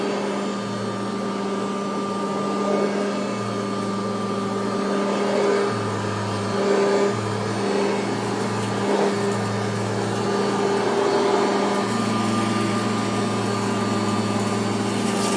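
A Kirby Heritage upright vacuum cleaner runs steadily on carpet, a loud, continuous motor drone with a whining hum and rising and falling low surges as it is pushed back and forth.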